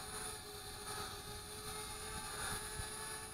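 A Flitt folding selfie drone hovers at about ten feet, its small propellers giving off a steady, thin, high-pitched whine with a faint buzzing undertone, quiet and unbroken.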